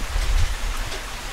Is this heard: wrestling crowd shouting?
no